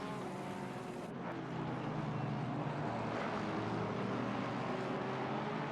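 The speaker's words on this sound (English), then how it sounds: "You should have engine sounds now." Racing car engines in a sim racing game at Zandvoort drone continuously, with a steady mid-level engine note that swells slightly after the first second, no talk.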